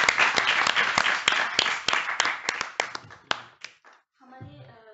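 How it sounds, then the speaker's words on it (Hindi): Audience at a Hindi literature event welcoming guests with clapping: close, distinct handclaps in a fast irregular patter for about four seconds, thinning out before a brief voice at the end. "तो आइए स्वागत करते हैं इनका तालियों से,"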